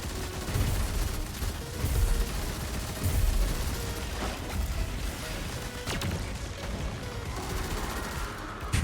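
Dense, continuous machine gun fire in the Destiny 2 video game, a steady roar of rapid shots mixed with crashing impacts and blasts that carries on without a break.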